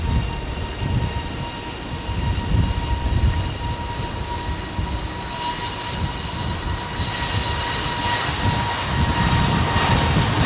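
Airliner arriving at London Heathrow in windy weather, its jet engines giving a steady, loud roar with tonal whine and buffeting wind noise that swells slightly toward the end, with no talk.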